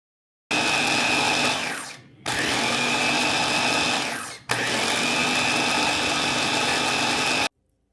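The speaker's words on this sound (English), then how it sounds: "You can also use this blender for smoothies." A Grownsy baby food maker's blender runs loud and close in three long bursts, with a brief drop in motor speed between them, a steady high whine over a whirring roar.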